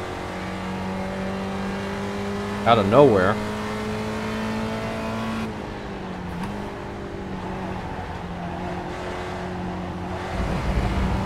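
Spec Racer Ford race cars in iRacing at Road America, a steady engine drone with one brief sharp rise as cars pass close, under a driver talking.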